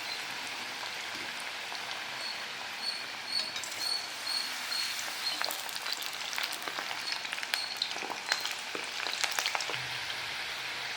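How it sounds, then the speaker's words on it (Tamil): Rice flour snacks deep-fry in hot oil, a continuous crackling sizzle with scattered pops and bubbling, moderately quiet and steady, with no talking. "இதே மாதிரி பார்த்திங்கன்னா கொஞ்சம் கொஞ்சமாக போட்டு நம்ம பொரிச்சு எடுக்கணும்."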